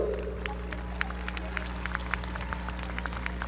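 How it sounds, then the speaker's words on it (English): Sparse, scattered clapping from a crowd at a high school graduation ceremony, individual claps audible over a steady low hum, fairly even throughout. "another huge round of applause for our valedictorian, Aliyah May Cerda."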